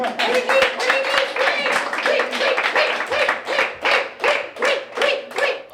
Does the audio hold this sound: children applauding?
yes